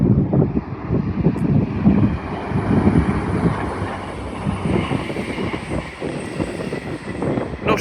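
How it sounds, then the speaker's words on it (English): A Class 221 Voyager passenger train on an Edinburgh Waverley to Plymouth service rumbles steadily through Colton Junction on the East Coast Main Line, a continuous rolling roar mixed with wind buffeting the microphone. "Pass through now will be, I believe, just a single class 220, working a service from Edinburgh Waverley to Plymouth."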